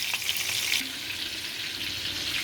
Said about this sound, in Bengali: একটু ভালো করে উল্টে পাল্টে লাল করে ভেজে নেব